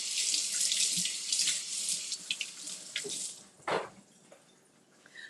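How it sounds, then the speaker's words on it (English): A single mushroom is rinsed under a running kitchen tap, with a steady hiss of water into the sink. The flow breaks up and splashes as the mushroom is turned, then eases off toward the end. "I'm just going to wash this one mushroom and chop it up."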